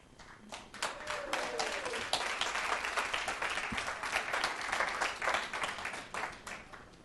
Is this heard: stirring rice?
no